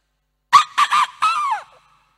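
A voice mimics a chicken with four quick clucking squawks, the last one drawn out and falling, loud and close against near silence.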